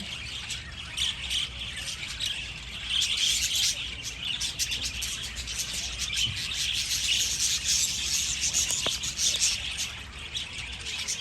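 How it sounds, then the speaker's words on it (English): A pet budgie (parakeet) chirps and chatters nonstop in a dense, busy stream of high squawks and tweets, with faint rubbing or scratching underneath. "Come on, bird."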